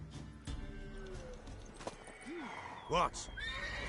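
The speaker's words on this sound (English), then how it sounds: "Worthy of the best horse. The mare is yours." A horse in The Witcher 3 video game gives a sharp whinny over a few hoof clops, and a short line of speech comes in as well.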